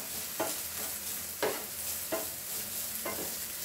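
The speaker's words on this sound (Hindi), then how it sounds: "पांच हरी मिर्च लिया है, कड़ी पत्ता, उसको फ्राई होने के बाद मिर्ची डालनी" Curry leaves and green chillies fry in hot oil with a steady dense sizzle, broken by about four soft scraping stirs, close and without voices.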